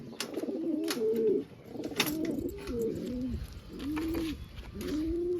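Several pigeons coo nearby in repeated soft, throaty rolling calls, overlapping in a loose rhythm, with faint scuffling and background noise.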